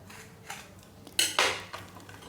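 A knife crunches through a crispy toasted bread sandwich in a few sharp, crackling bursts, close and fairly loud, with no talking.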